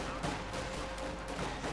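Volley gunfire from infantry in a Company of Heroes 2 1v1 match, a dense run of overlapping rifle cracks and bursts rattling steadily at moderate loudness for under two seconds, with no talk.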